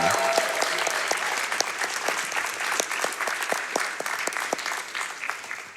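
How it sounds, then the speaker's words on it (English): An audience at a speedrunning charity event claps for a finished run of Resident Evil 3: Nemesis played on a guitar controller, steady applause with distinct claps rising from a crowd, fairly close and gradually thinning toward the end. "I think we can cheer for Zeke, right?"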